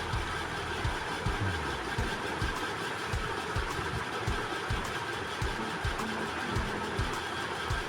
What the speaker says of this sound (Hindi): तो पहले हम इस तरह से सिलाई कर लेंगे।